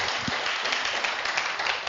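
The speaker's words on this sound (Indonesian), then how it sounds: "Tepuk tangan dulu untuk Ibu Misna dan Pak Dialog." Audience at an Indonesian business seminar clapping in a steady, moderately loud wash of applause throughout.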